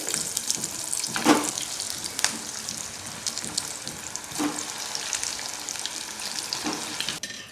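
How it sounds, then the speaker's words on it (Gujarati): Pea chaat patties frying in hot oil until crisp, with a steady close sizzle broken by a few sharp stirring clatters and no talking. "આ જ રીતે આપણે બીજી પેટીસ પણ તળીને તૈયાર કરીશું"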